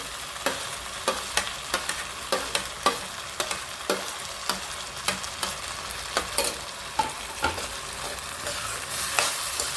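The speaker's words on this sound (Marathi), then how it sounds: "छान परतून घेऊ ती पण। शिमला मिरची चांगली परतली बघा।" Capsicum sautéing in butter in a pan for pav bhaji, a soft steady sizzle broken by regular sharp spatula scrapes and taps roughly every half second, close and without talk.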